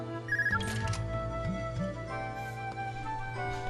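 A ringtone from a handheld portable orbment device, ringing like a cell phone in the video game Trails of Cold Steel. It chimes in a repeating electronic melody, clear and moderately quiet, with no talk over it.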